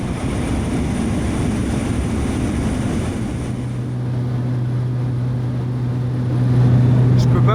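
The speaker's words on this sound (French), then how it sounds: "Si t'as peur de l'avion, c'est pas pour toi" Inside the cabin of a propeller airplane in flight, a loud, steady engine drone fills the space with a deep continuous hum that swells slightly toward the end.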